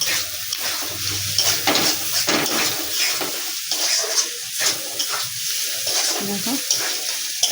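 Ginger sizzles and fries in a pan while a utensil stirs it, giving steady crackling broken by soft scraping and clinks, heard up close with no talk.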